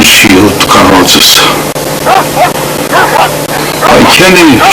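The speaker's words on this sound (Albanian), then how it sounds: "Po qishte ajo e lehur qeni?" A dog gives several sharp barks and whining yips at close range, loud and clustered, with a voice speaking over them.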